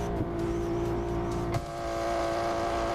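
Racing simulator car engine, heard from outside the car in the pits, with a steady, loud, humming drone that holds a fairly even pitch and has a brief bump partway through.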